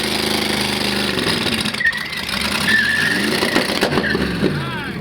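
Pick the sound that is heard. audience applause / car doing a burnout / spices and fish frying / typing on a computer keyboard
car doing a burnout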